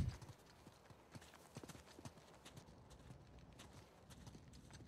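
Horse hooves clip-clop at a steady walking gait while riding through the video game Uncharted 4, moderately close and continuous, with a brief whinny-like sound and faint background game ambience.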